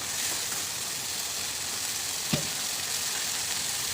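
Onions and tomatoes sauté in a pan for mor kuzhambu, a constant close sizzle with one brief scrape of a spoon stirring midway; no voices.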